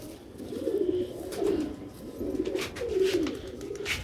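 Pigeons of the old Sialkoti breed coo in a close, steady series of low throaty rolls, repeating every second or so with faint higher chirps over a mild background.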